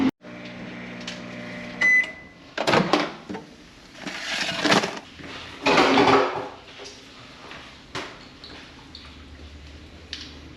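A microwave oven in an office heating leftover lunch: a steady low hum with beeps near the start, plus door clunks and a few loud handling knocks, close by and with no talking.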